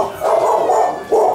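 A dog barks several times in quick succession, close and fairly loud, with no talking over it.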